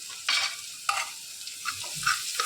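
Paya soup ingredients with turmeric sauté in a pan, giving a soft sizzle broken by several distinct stirring scrapes and clanks of a spoon against the pan, close and fairly quiet.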